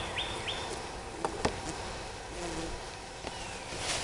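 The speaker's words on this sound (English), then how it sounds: "Just shake the bees off of those." Honey bees buzz faintly around an open top bar hive during an inspection, a soft continuous hum with a few brief louder passes close by.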